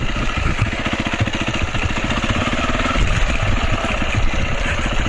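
A DRZ400 or KTM400 dirt bike rolls slowly along a wooded trail, its engine thumping in a rapid, steady, close chug with constant loud rumble and no voices.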